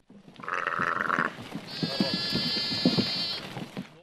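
A flock of sheep bleats on a forest track where they go to feed on oak leaves, one loud bleat near at hand and then a long sustained cry over soft shuffling and background noise.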